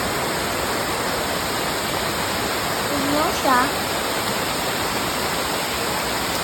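Waterfall at Tiguis Falls in Lila, Bohol, a steady broadband rush of falling water filling the whole clip, with a brief voice speaking over it near the middle.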